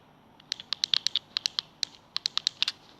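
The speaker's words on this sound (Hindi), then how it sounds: "और बाकी सारे बटन क्लिक होते हैं" Buttons on a fidget cube clicking in a quick irregular series of about twenty sharp, crisp clicks, close and clear with no talk.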